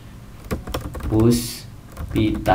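Keys tapped on a computer keyboard while working in CorelDraw, including a Ctrl+D duplicate shortcut, giving a few quick clicks alongside a person talking.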